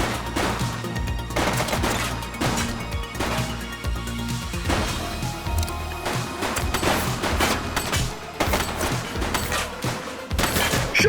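Rapid gunfire in The Precinct police game: dense bursts of automatic shots and sharp cracks repeat loudly throughout, with heavy impacts over a steady low background.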